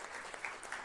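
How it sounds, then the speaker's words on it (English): Brief burst of audience applause at an annual general meeting of IMC, a steady wash of clapping heard fairly faintly at a distance. "I will please once again give him a big clap"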